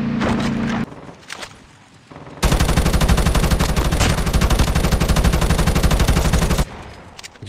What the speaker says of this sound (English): he shoot a mag full of 50 bullets, he hit him twice